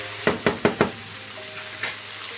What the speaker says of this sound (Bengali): খুব ভালো করে পেঁয়াজটাকে কষিয়ে নিতে হবে।